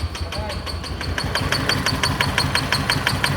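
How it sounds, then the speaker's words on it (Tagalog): Isuzu D-Max diesel engine runs roughly up close, with an uneven, knocking idle and rapid ticking pulses, while someone talks over it. "Ito yung makina."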